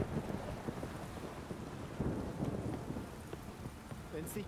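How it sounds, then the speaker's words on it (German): Steady rain pours in the video game The Witcher 3, with a low rumble like distant thunder underneath, faint voices murmuring through the downpour. "Wenn es nicht bald zu regnen aufhört,"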